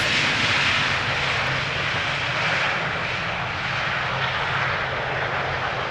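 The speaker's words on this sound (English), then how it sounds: "This Turkish has been cleared for taxi according to Adrian." Loud, steady jet engine roar from a Turkish airliner taxiing at Schiphol Airport, a continuous broadband whine and rumble holding at the same level throughout.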